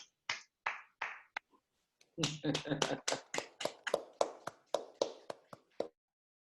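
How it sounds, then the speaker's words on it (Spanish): Scattered claps from online meeting participants after a talk on spiritual intelligence, a few sharp taps first, then a denser run of clapping with one voice briefly over it, fading to single claps. "Pueden desmutearse todos ahora si quieren saludar o decirle algo a Inés directamente o aplaudirla."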